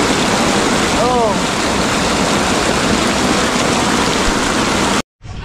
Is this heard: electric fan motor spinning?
no